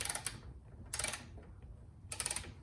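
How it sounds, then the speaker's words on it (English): A torque wrench ratchets and clicks while tightening the bolts of a Cusco front strut tower brace on a Subaru WRX STI. It comes as three short, crisp bursts of rapid clicking separated by quiet pauses. "So yeah, let me torque these all."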